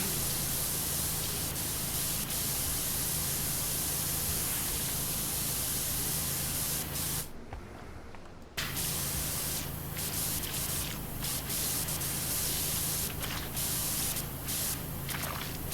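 Steady, loud hiss of a pressure washer spraying in the video game PowerWash Simulator, a continuous broadband jet that cuts out for about a second midway, then resumes unbroken to the end.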